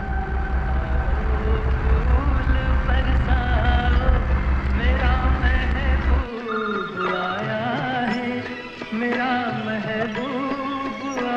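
A loud, melodic phone ringtone plays continuously, its busy musical tune shifting partway through.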